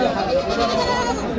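Goats bleating at a busy village goat market, a steady loud mix of animal calls blended with crowd chatter and voices, continuous for the whole stretch.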